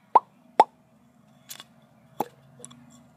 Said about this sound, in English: you're going to hear this coming out of the exhaust. A little pop.